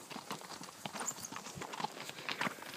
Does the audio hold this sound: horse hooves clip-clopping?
yes